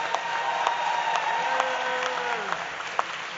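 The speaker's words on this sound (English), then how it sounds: "If you're proud of the work we do as a union, I want you to stand up and applaud" Convention audience of union educators standing and applauding, a steady broad wash of clapping with sharp individual claps popping through, continuous for a few seconds, with a faint tonal hum underneath.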